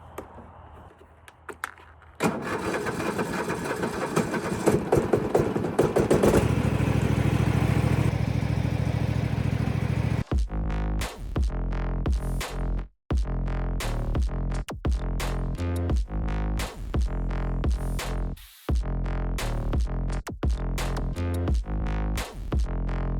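A Craftsman PGT 9000 lawn mower engine with the choke on is pulled and sputters, then catches and runs. It gives a loud, steady close-range chug that cuts out briefly a few times.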